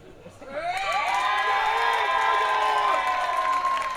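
Crowd at a Hungarian wrestling event at Balaton cheering and shouting loudly for a returning hometown hero, a sustained roar with whoops and high voices rising throughout.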